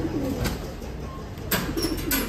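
Pet pigeons coo softly nearby in low repeated throaty murmurs, with a couple of brief rustles or wing flutters and no talk.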